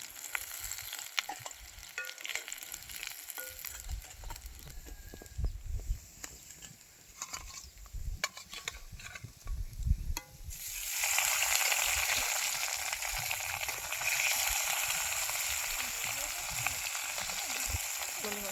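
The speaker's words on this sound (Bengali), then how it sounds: "আর এই যে বাকিগুলো আছে এগুলো ভেজে নেব" Fish frying in hot oil outdoors beside a pond, a steady crackling sizzle that jumps to a louder, brighter spatter partway through as more pieces go in, with faint background rustling.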